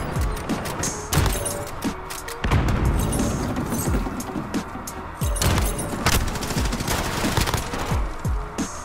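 Rapid gunfire from a marksman rifle and other weapons in Call of Duty: Modern Warfare, loud, with heavy booming shots at irregular intervals over a dense layer of constant battle noise.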